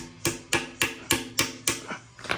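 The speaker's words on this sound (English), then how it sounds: "And then we get the hammer." A hammer taps dowels in steadily about eight times in an even rhythm, sharp knocks close by with no talking, while mounting a 351W engine and transmission in a Mk2 Escort.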